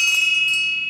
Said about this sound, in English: using the summoning bell.